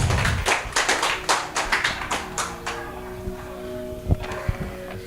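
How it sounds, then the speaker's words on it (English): A small gathering claps for Victor, a run of scattered hand claps in the first few seconds that thins out into sparse taps, with a faint tonal hum lingering underneath afterward. "if you just want to give a round of applause for Victor"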